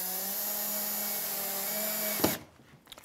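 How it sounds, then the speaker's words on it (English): A power drill whines steadily for about two seconds as it drives a screw into a wooden enclosure, then stops abruptly, followed by a few light knocks and handling sounds. "And now we can just throw a few more screws in."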